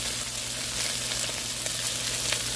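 Shrimp sizzle and pop steadily in a hot frying pan, a dense continuous crackle with scattered sharper pops close up, with no talking.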